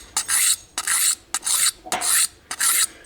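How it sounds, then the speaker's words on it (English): A knife edge being sharpened on a diamond stone to raise a burr: five steady, close rasping strokes in an even back-and-forth rhythm, each separated by a brief pause. "let's go ahead and finish putting an edge on this thing. A little bit more to bring that burr out"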